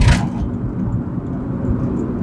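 A Proton Saga FLX with an automatic gearbox rumbles steadily at close range, its engine a low, continuous drone without clear revving peaks, and no talk over it.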